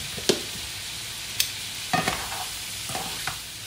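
Shrimp fry in a pan under a steady soft sizzle, with a few sharp scrapes and clinks as a utensil stirs them, quiet and close.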